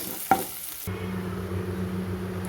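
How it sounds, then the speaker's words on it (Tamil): Spices tempering in hot oil for chow chow kootu, a sharp clatter as they drop in, then a steady close sizzle and crackle that continues to the end with no voices. "சௌச்சௌ கூட்டுக்கு தாளித்து விட்டாச்சு"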